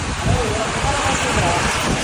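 Outdoor rain in Tirumala, Tirupati: a loud, dense, continuous wash of rain mixed with wind buffeting close to the microphone, and a voice briefly audible under it.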